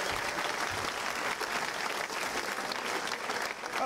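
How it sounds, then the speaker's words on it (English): Audience applause at a comedy show: dense, steady clapping from a large crowd that holds at an even level for the whole few seconds. "Round of applause"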